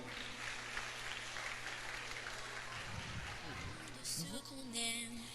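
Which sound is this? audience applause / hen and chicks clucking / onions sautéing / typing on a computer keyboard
audience applause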